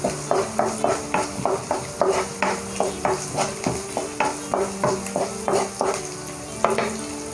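Green chili, ginger and onion sauté in a pan while a spoon scrapes in a quick, regular stirring rhythm, over a constant sizzle close by.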